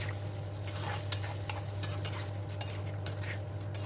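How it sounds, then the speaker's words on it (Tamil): Tamil kuzhambu curry with chilli powder is stirred in a pan, giving a soft continuous sizzle with light scraping strokes of a spoon, quiet and close, with no talk. "இப்போ நல்லா கலக்கி விடுங்க."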